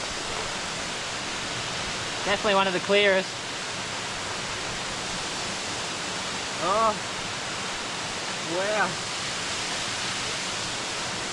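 A waterfall in Australia rushes with a steady, broad roar that fills the whole clip, loud and constant, while a person speaks briefly a few times over it.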